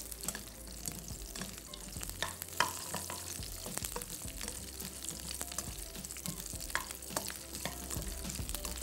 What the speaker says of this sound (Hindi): और फिर ऐसे फ्राई कर लें।